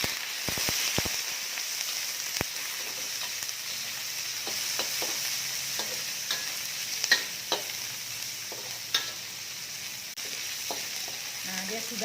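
Shrimp stir-frying in a pan with shallots and garlic, a steady loud hiss of sizzling oil with scattered clacks of a spatula stirring and scraping, close up and continuous without any voices.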